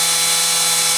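A machine spins at 8,000 RPM, making a steady, high-pitched whine with a constant tonal hum beneath it, loud and close throughout the brief moment, with no voices.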